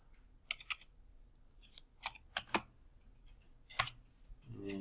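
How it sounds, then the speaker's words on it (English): Keys clack on a computer keyboard while an address is typed into a browser bar: a few sparse, close, crisp taps in small clusters against a quiet room with a faint steady whine. "just go to your address bar, your browser, and just type in Google AdWords"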